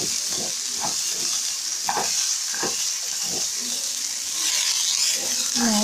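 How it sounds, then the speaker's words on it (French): Rice grains stirred in hot oil in a pot for tshakula imbwa, with repeated scraping strokes over a steady frying sizzle, close and moderately loud. "Je le mélange très bien jusqu'à ce que tous les riz soient enrobés d'huile."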